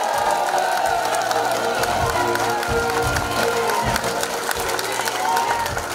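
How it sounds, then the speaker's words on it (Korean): Steady applause from a large crowd with scattered cheers and whoops, continuous and loud throughout, at a campaign office opening for a Mokpo mayoral candidate. "힘찬 감사 박수 한번 보내주시기 바랍니다."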